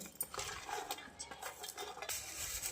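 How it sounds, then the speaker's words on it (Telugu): Dried red chillies, cumin, curry leaves and coconut are pounded by hand, giving a quick series of soft, uneven thuds and scraping clinks, fairly quiet and close. "ఈ ఎండుమిర్చి, జీలకర్ర, కరివేపాకు, కొబ్బరి అంతా బాగా దంచుకోవాలండి"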